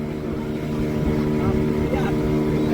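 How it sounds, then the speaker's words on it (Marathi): A motorboat engine drones steadily close by as the boat heads out to Sindhudurg fort on the Konkan coast, a continuous low rumble throughout. "ही होडी चालल्या किल्ल्यावरती आपल्या"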